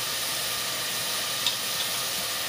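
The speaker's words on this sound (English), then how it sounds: "Alright, sweating your onions." Onions sweat gently in a pot for chicken soup, giving a soft, even, continuous sizzle with a couple of faint ticks and no talking.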